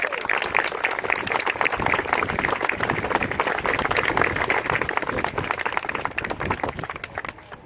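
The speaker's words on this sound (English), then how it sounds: "Let's give them a round of applause" Sustained applause from an audience at an Air Force ceremony, a steady dense roar of many hands clapping throughout, tapering slightly near the end.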